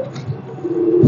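Pigeons coo at a Sunday market where birds are sold, a short, low, soft cooing murmur rising at the end, fairly close and heard on its own.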